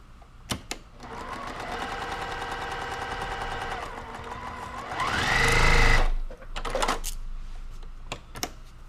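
A Juki sewing machine fitted with a quarter-inch foot runs a continuous buzzing stretch of stitches, then a louder whirring burst before it stops, with a few sharp clicks around it.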